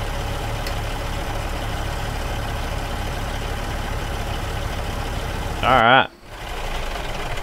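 A truck engine idles steadily throughout with a low rumble, interrupted near the end by a short burst of talk and a brief mechanical whine before the idle resumes.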